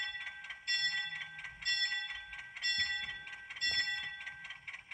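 A PIKO HO-scale Whitcomb 65-ton model diesel locomotive bell rings in a steady, repeating clang, several strikes about a second apart, layered over a rhythmic electronic engine chug.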